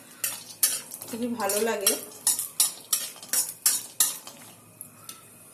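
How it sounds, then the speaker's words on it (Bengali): Chopped cashews, raisins and almonds stirred and lightly fried in ghee in a pan, with a spoon clinking and scraping against the metal in quick, repeated strokes close by, and a brief spoken phrase partway through. "এই কাজু, কিশমিশ আর আমন্ড ভেজে নিলে"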